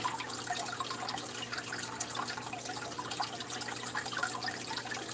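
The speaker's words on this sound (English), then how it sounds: "Dripping inside the tank?" Water drips and trickles steadily inside an aquarium tank, a constant faint wash of splashing with small droplet ticks and no voices.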